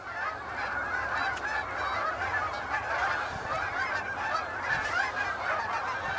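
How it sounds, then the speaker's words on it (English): A flock of geese honks continuously in a backyard, a dense overlapping chorus of calls at moderate distance with no talking. "Y'all's goose got out."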